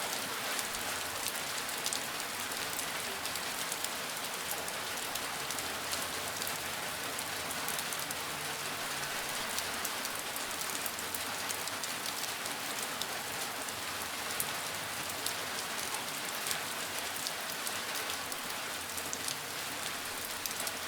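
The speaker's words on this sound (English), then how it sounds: "and the breathing into the rain." Gentle rain falls steadily on a surface, an even, continuous patter at soft volume with no talking or thunder.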